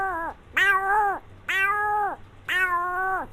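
A man imitates a cat, giving three long, drawn-out meows in a row, each rising then falling, clear and close with brief pauses between.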